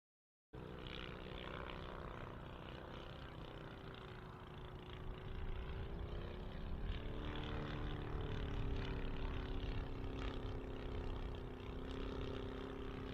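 A model Fly Baby aircraft flies at an outdoor model airshow, its engine droning steadily with a broad buzzing whine that shifts slightly in pitch as it passes, loud and continuous throughout.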